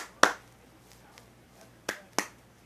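Sharp hand claps or snaps sound off: one crisp crack, then after a quiet stretch two more in quick succession, close and isolated against a faint background hiss.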